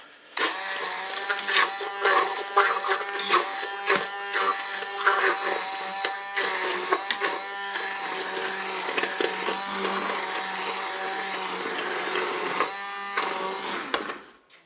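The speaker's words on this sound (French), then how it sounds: "Je prends mon mixeur plongeant, moi je fais directement dans ma cuve." An immersion blender purées apple and orange compote directly in a Cookeo pot, a loud, steady motorized whir with slight rattling variations lasting about fourteen seconds before cutting off.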